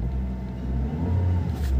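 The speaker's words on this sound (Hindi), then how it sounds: "तो आप देख सकते हैं कार को हमने स्टार्ट कर दिया है दोस्तों," A car engine idles just after being started, a steady low rumble close by with a slight rise in revs partway through, and no voices over it.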